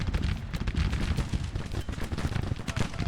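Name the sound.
musket gunfire from video game Grand Tactician: The Civil War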